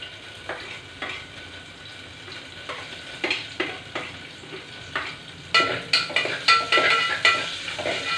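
Tempering spices sputter in hot oil in a pan, a low steady sizzle with repeated stirring scrapes that grow louder and more crackly toward the end, close by and without talk.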